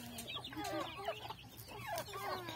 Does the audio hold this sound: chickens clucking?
yes